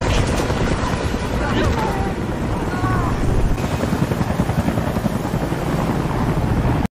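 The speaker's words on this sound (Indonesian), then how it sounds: "Helikopter mengejar Karolin dan dia berhasil sembunyi." A helicopter's rotor chop and engine roar fill the scene steadily and loudly, with a dense, continuous wash of noise throughout.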